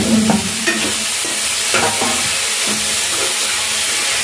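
Spinach and onions with small fish curry stirred in a pan, loud steady sizzling hiss with repeated scraping stirs at an irregular rhythm, close and alone.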